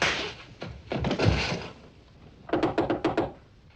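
A series of knocks on a door in a 1955 film: an early cluster of heavy thuds, then a quick run of about six sharp, evenly spaced raps, fairly close and with no voices over them.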